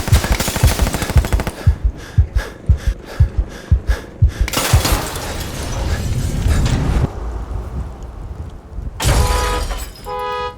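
Staccato bursts of gunfire in a short film action scene, a rapid run of loud shots followed by a sustained roaring blast and another crash of impacts near the end.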